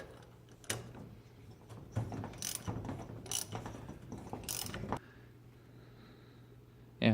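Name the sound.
socket wrench turning on a Yamaha Breeze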